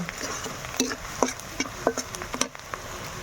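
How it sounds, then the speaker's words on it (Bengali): Onions fry on a clay stove, giving a soft steady sizzle broken by small irregular stirring scrapes and taps, close but fairly quiet. "পেঁয়াজ ভাজা হয়ে গেছে"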